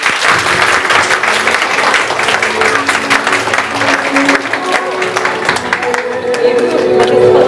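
Guests applaud at a Turkish engagement ceremony, loud continuous clapping from a nearby crowd with chatter and voices mixed in throughout.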